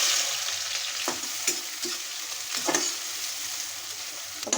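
Onions frying in a pan for a chicken curry, a steady broad sizzle with a few brief stirring scrapes and clatters, close and continuous with no voices.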